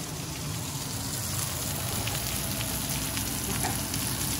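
A pan-seared filet steak sizzles steadily in a hot pan, a dense, even, close frying hiss that runs throughout with no talking.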